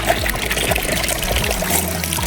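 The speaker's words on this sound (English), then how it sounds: "just trying to get the water flow right has been an interesting challenge" Water runs over a Millar table sorting fine alluvial gold, a close, steady splashing trickle with small gurgles throughout, no voices.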